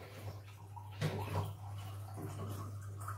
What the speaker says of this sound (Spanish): Y le voy a echar un poquito de agua